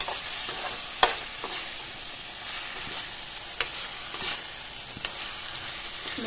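Pieces of local pond fish sizzle in hot oil in a pan, a steady hiss punctuated by a few sharp scrapes and taps of a spatula stirring them.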